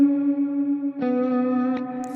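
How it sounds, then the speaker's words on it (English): A guitar played through a Flamma FS02 reverb pedal on its Cave Reverb setting gives dark, warm, big sustained chords with a long wash, a fresh strum near the middle and another near the end, with no talking. "It's the Cave Reverb. I can bet this one sounds very dark,"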